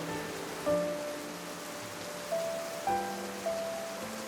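Steady rain patters through the Odaigahara forest on the Kii Peninsula in central Japan, a soft continuous wash of drops, with a few faint tonal calls drifting in and out and no voices.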